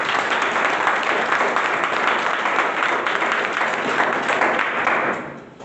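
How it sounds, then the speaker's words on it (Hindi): Students at an IAS coaching academy lecture break into dense, loud applause that holds steady for about five seconds, then fades out. "तालियां।"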